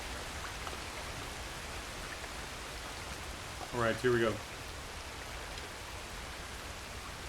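Steady, hissing rain falls throughout in Red Dead Redemption 2, a broad, even wash at moderate level, with a brief spoken phrase partway through.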